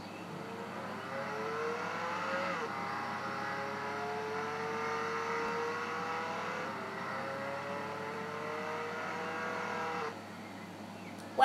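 Car engine in the Roblox Jailbreak video game, a steady droning motor with rising revs as gears shift, continuous for about ten seconds before dropping off, with no talk.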